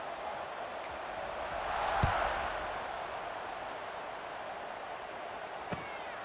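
A video game stadium crowd in EA Sports College Football 26 roars on and on, a diffuse wash of noise that swells for a moment, with a couple of faint knocks.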